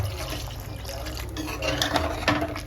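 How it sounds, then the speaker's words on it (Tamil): Water splashes and trickles into a cooking pot of goat brisket bone and eggplant curry, a close, bubbly liquid pour with some clatter, continuous throughout without speech. "கொஞ்சம் போல் தண்ணி போட்டுக்கலாங்க"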